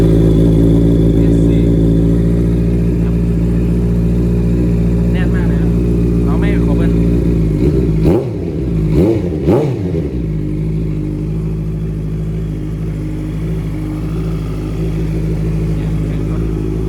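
A 2014 Honda CBR650F four-cylinder motorcycle engine idles steadily and loudly up close, with a few quick throttle blips midway before settling back to idle.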